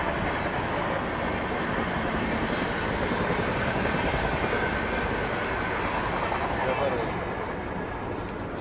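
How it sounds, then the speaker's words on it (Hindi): Diesel train noise from a Howrah Rajdhani or Tejas service rolls past, with a light ALCO diesel locomotive standing nearby; the loud, dense rumble and clatter stay steady throughout, easing slightly near the end. "एक लाइट एल्को भी बेचारा खड़ा हुआ है इधर, अपनी छक छक से रेल फैंस को खुश कर रहा है।"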